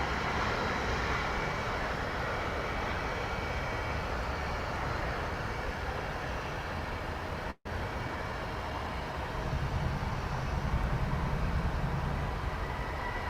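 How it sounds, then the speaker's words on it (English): Jet airliner taking off from the east runway at DFW Airport, a loud continuous engine roar heard from a distance that holds steady, swells slightly near the end, and drops out briefly once. "Here's a flight that just took off from the east runway"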